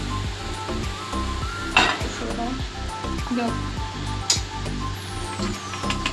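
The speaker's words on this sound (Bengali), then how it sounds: "এদিকে আমি পরোটাগুলো ভেজে নিচ্ছি" Parathas fry in a pan with a steady, moderate sizzle, accompanied by occasional sharp clinks and scrapes of a utensil against the pan.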